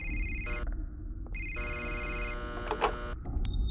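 Telephone ringing in a Five Nights at Freddy's fangame, two bursts of a loud electronic ring with a short break between them, over a steady low background hum.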